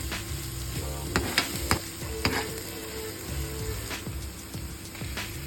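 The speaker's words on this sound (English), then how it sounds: "let's saute a cup of chopped onions" Chopped onions sautéing in a pan for beef and cheese empanadas, a steady close sizzle with intermittent stirring scrapes and clinks of a utensil against the pan throughout.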